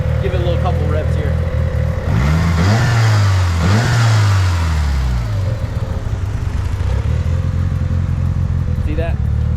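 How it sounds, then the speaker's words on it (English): A smoking car engine is revved a couple of times, rising and falling in two swelling roars over a steady idle, with a person talking nearby. "So give it a little couple revs here."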